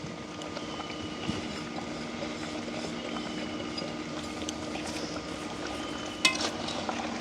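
Crab curry with crushed garlic and pepper cooks and is stirred in a pot on a village stove, a low, steady sizzle with occasional scrapes and a sharp clink near the end.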